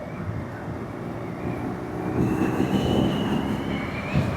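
A 2023 BMW R nineT motorcycle engine runs steadily while riding, a dense continuous drone with broad rumble that swells slightly louder halfway through, heard up close with no talking.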